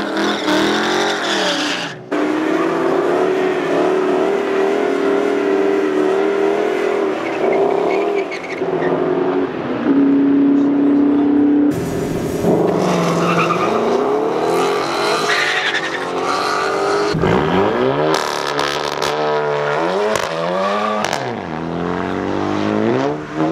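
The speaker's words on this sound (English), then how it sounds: "This is his newer race car." A drag race car engine revs loudly and continuously nearby, with rising and falling pitch sweeps and sharp throttle changes as it passes, plus some tire noise.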